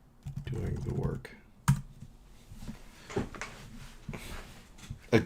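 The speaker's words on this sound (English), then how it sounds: "I was typing instead of talking" Scattered keystrokes on a computer keyboard, quiet irregular clicks and taps in short bursts with pauses, a few sharper louder hits, and faint background voice.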